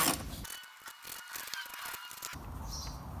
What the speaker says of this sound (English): tighten up all the bolts, and we'll be good to fill this thing